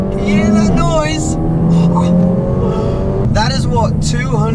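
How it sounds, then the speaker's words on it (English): A Renault Megane R.S. with a 280-horsepower turbocharged four-cylinder launches on launch control, its engine droning loudly and climbing through gear changes. Someone talks over it throughout. "we're gonna kick off this drive with launch control. Pull both paddles, accelerate, foot on the brake, and here we go."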